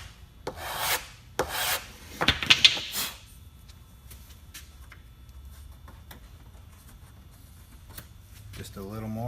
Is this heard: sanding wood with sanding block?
yes